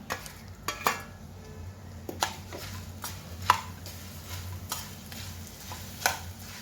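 Fried thick poha, peanuts and dal are tossed together for chivda, with soft rustling stirs and a few sharp scrapes and clinks of a spoon against the pan at close range, fairly quiet throughout.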